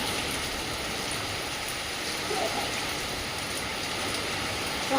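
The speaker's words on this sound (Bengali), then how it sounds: "বাইরে প্রচণ্ড বৃষ্টি হচ্ছে এখন" Steady heavy rain hisses continuously, a dense wash of falling water heard from inside a kitchen with no breaks.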